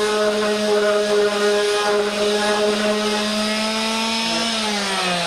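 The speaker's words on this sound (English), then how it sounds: "the way we get this rough edge out is simply with a palm sander" A palm sander smoothing a rough wooden edge, a loud, steady close-up electric drone with a strong even hum that holds for the whole stretch without pause.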